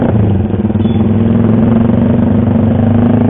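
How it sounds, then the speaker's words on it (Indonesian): A Honda CBR250R motorcycle engine runs during a test drive on the road, a loud steady droning hum with a low throbbing pulse and wind rush, holding constant throughout. "Kita test drive menggunakan motor Honda CBR 250 gitu kan."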